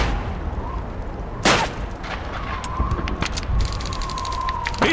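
Rifle shots ring out on a firing range in Call of Duty 2, two or three sharp reports spaced out over steady background din and a faint sustained tone.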